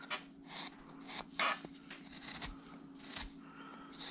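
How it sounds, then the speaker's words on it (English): A number 9 gouge carves a turned head from a wood block, giving quiet, close scraping and shaving strokes in short irregular bursts with soft rasps between cuts. "I'm going to take a number 9 gouge, and I'm going to come in here,"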